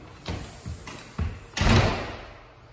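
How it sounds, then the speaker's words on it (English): The side door of a house opens and closes with a few soft knocks and rattles, then a heavier thud that trails off. It is close, with no talking. "Come in the side door, which you'll probably use as your main entrance"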